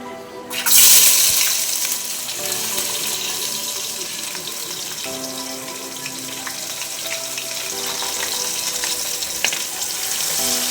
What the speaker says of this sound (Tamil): அதுக்கப்புறம் இந்த வெங்காயம் போட்டுக்கலாம்